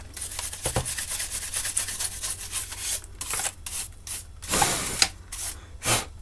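Dusting the tape player of an Amstrad CPC 464 computer, close brushing and rubbing strokes in short irregular bursts, with a few harder swipes and faint plastic clicks, no voices.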